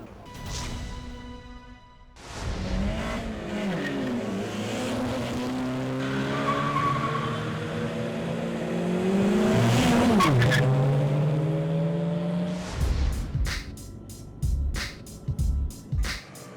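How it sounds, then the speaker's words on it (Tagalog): Motorcycles in an illegal night street race on Macapagal Boulevard scream past with rising and falling engine whine and sliding pitch as they pass close by. The noise fades to sharp bursts and revs at the end. "Ang karera ng motorsiklo sa Macapagal Boulevard, malakihan ang pustahan."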